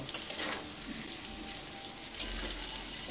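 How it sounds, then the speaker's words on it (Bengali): Chopped onions fry in a pan for a rita fish curry with potatoes, a steady soft sizzle and crackle, fairly quiet, with occasional brief spatters and stirring scrapes. "পেঁয়াজ কুচিটাকেও এবার লাল লাল করে ভেজে নেব"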